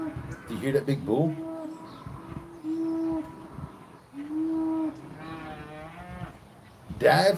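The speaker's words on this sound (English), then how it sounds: "Do you hear that big bull?" Deep bellowing moos from a big bull among a herd of cows behind an electric fence, several long drawn-out calls in a row, fairly close, with people talking over and between them.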